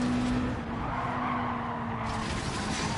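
Simulated NASCAR Cup race car skidding with oversteer on the Northern Isle circuit in a racing video game, a steady broadband tire-scrub roar with a faint engine whine running continuously for about three seconds, no talk over it.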